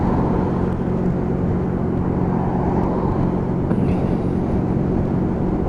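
A Lexmoto Michigan cruiser motorcycle riding along a dual carriageway, a steady engine hum and road rumble with wind noise and no talk.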